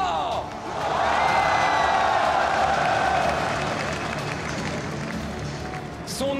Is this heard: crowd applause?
yes